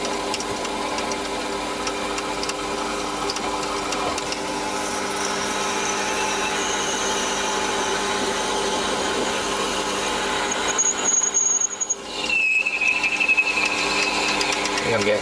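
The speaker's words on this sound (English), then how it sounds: "Just drilling a hole" A mini lathe drills a hole, giving a steady mechanical whine and hum with a faint squeal of the bit in the bore. The noise runs continuously with a brief dip and bump near the end.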